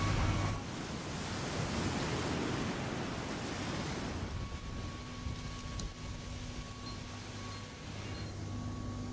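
Steady wind rushing and roaring outdoors on an offshore oil installation, broadband and continuous, with a faint low hum running underneath.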